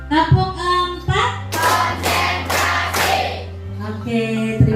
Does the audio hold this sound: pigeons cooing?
no